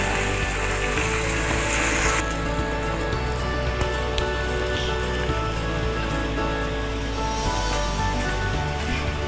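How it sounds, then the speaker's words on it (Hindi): Water pours into a cooking pot of nargisi kofta curry with a rushing, splashing sound that is loud at first and then eases into a lighter, steady trickle and patter. "अब हम पानी शामिल करते हैं।"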